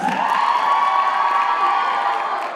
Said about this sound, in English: let me hear your thunderous round of applause